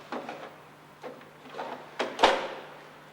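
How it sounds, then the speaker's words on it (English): A bottom drawer is slid out of an automatic coffee machine, a few soft plastic scrapes and clicks ending in a sharper knock, close and alone with no talking. "Now she'll remove this bottom drawer and take out the tray that holds the used coffee grounds"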